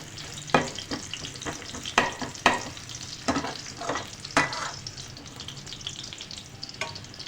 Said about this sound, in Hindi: जैसे ही अच्छा सा ब्राउन सा फ्राई हो जाएगा, कच्चापन रहा ना रहे लहसुन का